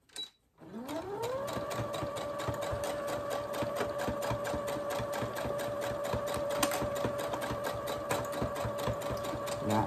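A sewing machine stitches fabric forward and then in reverse, rising quickly from a brief start into a steady, close, rhythmic whir that holds evenly to the end with no talking.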